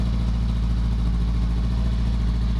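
Honda CBR500R fitted with a LeoVince GP Corsa EVO aftermarket exhaust, idling with a steady, deep, throbbing low rumble that holds constant and close throughout.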